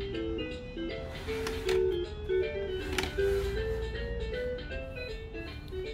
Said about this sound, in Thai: ฟังก์ชันสุดท้ายเป็นเมโลดี้ค่ะ